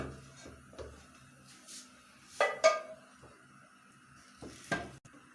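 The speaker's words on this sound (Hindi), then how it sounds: "मैं इसमें चम्मच चला रही हूँ।" A spoon stirs chicken and spinach in a cooking pot in a quiet kitchen. A few soft scrapes are followed by two louder metallic clinks against the pot, with no talking.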